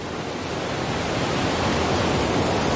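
A cascading waterfall at Rock Creek Falls rushes in a steady, dense roar that stays even and continuous, loud and close with no voices.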